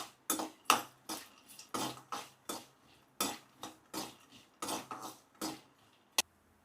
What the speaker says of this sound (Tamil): இப்போ நம்ம வேர்க்கடலையை கொட்டிடலாம். இப்போ நல்லா வதக்கிடுங்க.